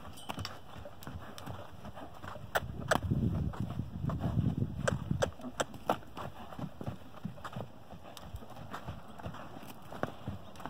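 A horse trotting outdoors, hooves clip-clopping in a steady rhythm at moderate distance, with a louder patch of rustling in the middle and a faint voice urging it on.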